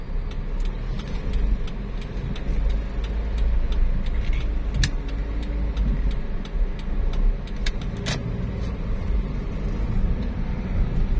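A used 2005 Toyota Altis with manual transmission cruises in third gear, giving a low, steady engine and road rumble inside the cabin with faint intermittent ticking.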